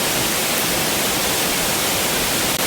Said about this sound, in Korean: 지금 폭포 소리도 들리고